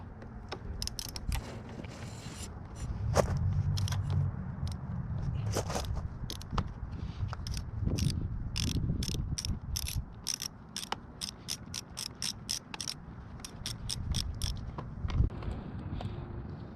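A wrench works a fastener loose on the clutch or brake lever of a 2017-2019 Honda CBR 1000RR, giving a close, rapid run of sharp ratcheting clicks in quick bursts with short pauses, no talking.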